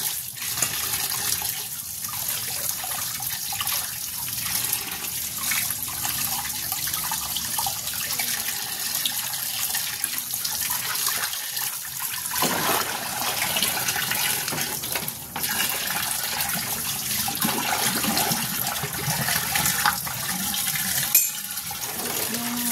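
Water runs steadily into a kitchen sink with a wide drain pipe, a loud continuous rushing stream close by that lasts the whole stretch, with a few small knocks near the end.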